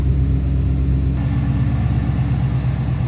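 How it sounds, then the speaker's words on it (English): A 2016 Ford Mustang GT with a 5.0 V8 and aftermarket exhaust idles with a deep, steady, loud rumble up close, running evenly with no revving and no talk. "It's a nice sounding engine, aftermarket exhaust"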